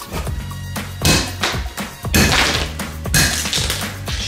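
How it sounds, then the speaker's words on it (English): A tomato frozen solid in liquid nitrogen shatters and breaks apart, giving a run of hard, brittle cracks and clattering impacts like rocks or broken glass, close and fairly loud. "It sounds like rocks or broken glass."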